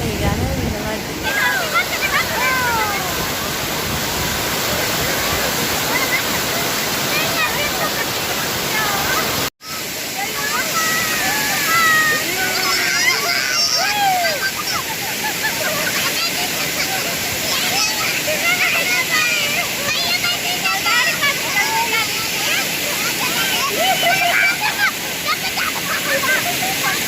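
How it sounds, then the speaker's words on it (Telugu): A temple waterfall at Pampuram roars in a constant, loud rush of falling water, broken by one momentary dropout, with faint voices of visitors mixed into the spray. "వాటర్ ఫాల్ దగ్గరికి వెళ్దాం పదండి"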